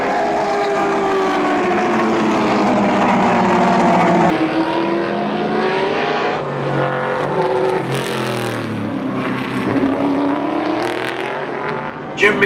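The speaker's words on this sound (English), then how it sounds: "Gagan, Foley and Manton blast off the start line" 1960s racing cars roaring off the start line together at Warwick Farm circuit, a loud continuous engine blare with pitch rising through the gears as the pack accelerates away.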